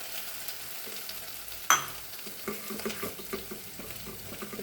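Stuffed pointed gourd (potol) frying in a pan: a soft continuous sizzle with one sharp clatter of a utensil against the pan, then gentle stirring and scraping.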